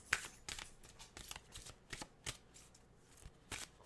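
A deck of cards is handled and shuffled, with a series of soft, crisp riffles and flicks repeating at an irregular pace, close and quiet, without talk.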